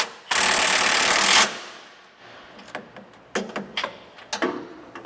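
A 19mm socket drives a nut down onto its bolt and washer during a front anti-sway bar install: one loud, sustained mechanical rattle about a second long, then a series of sharp, close clicks and taps as the fastener is snugged.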